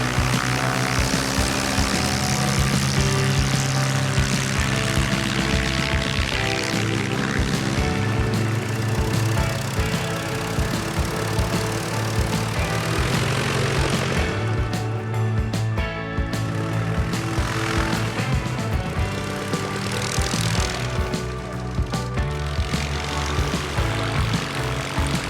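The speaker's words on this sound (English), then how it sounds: "So several of them have taken off, and they're circling around, and they're taking turns, seeing if they can land in between those two flags." Classic British propeller aircraft circle an airshow field, taking turns at landings between two flags; a steady loud piston-engine drone with a throbbing propeller tone continues throughout, shifting slightly in pitch as planes pass.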